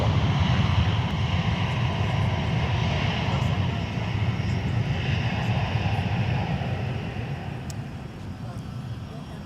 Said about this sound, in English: let's swing over and catch our taxiing Delta 2908 Heavy off to Rome, Italy